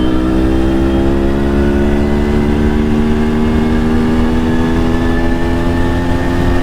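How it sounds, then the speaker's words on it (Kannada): A Yezdi Monarch 250 two-stroke motorcycle pulls hard at full throttle, its engine note climbing steadily in a loud, close, buzzing drone that rises in pitch across the whole stretch. "ಫುಲ್ ಥ್ರಾಟಲ್ ಹೆಂಗ್ ನುಗ್ಗುತ್ತೆ ಅಂದ್ರೆ ಈ ಗಾಡಿ."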